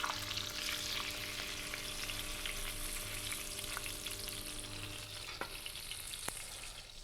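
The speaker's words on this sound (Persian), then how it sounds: "موقع پختن مرغ وانره یه مقدار سرخش میکنم" Chicken pieces frying in oil in a pan for a Gilani torsh kabab lunch, a steady close sizzle with a low hum and a couple of sharp clicks near the end.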